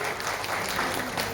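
An audience at a national BC welfare association meeting in Visakhapatnam claps in steady, dense applause that fills the room for the whole moment.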